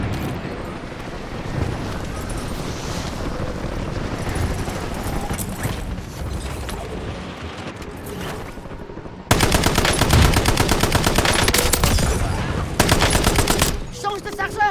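Call of Duty Warzone combat plays as a busy, loud game mix at first, then bursts into sustained rapid automatic fire for several seconds, with game voices speaking in French alongside it.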